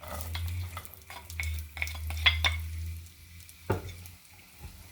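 Sliced onions with spices fry in a pan on a medium-heat stove, with close stirring scrapes and clacks of a spoon over a low sizzle, uneven strokes then a quieter pause, no talk.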